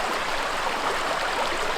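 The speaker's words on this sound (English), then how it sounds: "a confluence where Leach Creek meets Chambers Creek" Steady, close rush of creek water where Leach Creek meets Chambers Creek in a quiet park, a continuous broadband babble with small gurgles, no voices.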